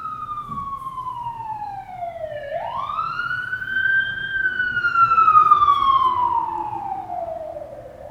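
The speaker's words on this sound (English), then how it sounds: "Here, let the siren go by." A siren wails with a sweeping, rising and falling tone, swelling louder mid-clip as the vehicle passes, over low traffic rumble.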